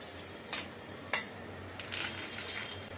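Turkey berries rattle in a roasting pan as they are stirred, with two sharp clinks of a spoon against metal, then softer scraping and a faint background hum, with no talking.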